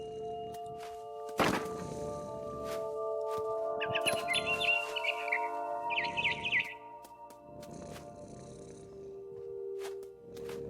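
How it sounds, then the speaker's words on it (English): A barn swallow in the video game What Remains of Edith Finch gives two short bursts of bright chirps in the middle, between heavy thumping steps and low ambient hum. "Then I heard chirping outside my window. It was a barn swallow going back to her nest."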